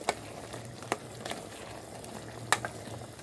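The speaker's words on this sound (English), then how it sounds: "And so we add and then we stir." A spoon stirs broiler chicken and rice stew in a pot, giving a few soft scrapes and clinks over a steady low bubbling simmer.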